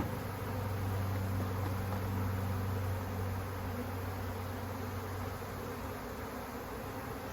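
A swarm of honey bees being captured into a hive, a dense steady buzzing hum from many insects, fairly faint and continuous with no voices.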